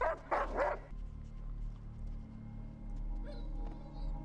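Dogs bark in a short cluster of three loud barks in an HBO drama episode, then fall quiet over a low, steady background hum.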